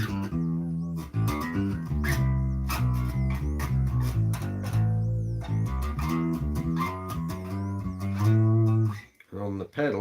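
An electric guitar plays a busy melodic phrase through an effects unit, sustained and fairly loud, heard alone.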